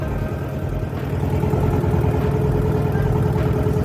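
A river boat engine on the Hoi An River in Vietnam chugs steadily at a constant idle, close and fairly loud, its rhythmic low throb continuing without pause and with no talking.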